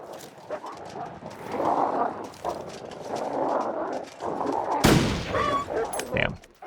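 Rifle shots ring out while hunting in the snowy survival game The Long Dark, one sharp, loud report standing out late amid rustling footsteps and movement.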